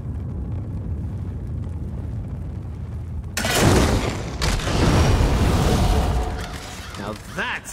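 A heavy ballista blast in Elder Scrolls Online clears a blocked path, a sudden loud boom followed by rumbling debris and a second thump, after a stretch of quieter ambience with a voice talking.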